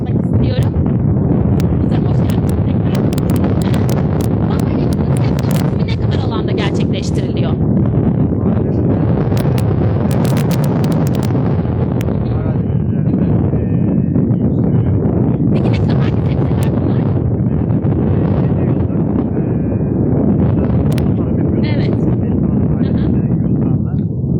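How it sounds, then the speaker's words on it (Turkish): Strong, constant wind buffets the microphone outdoors at a sun-drying tomato field in Manisa, Turkey, a loud roaring rush that never lets up, with voices likely underneath. "burada da gördüğünüz gibi rüzgar sıkıntılı"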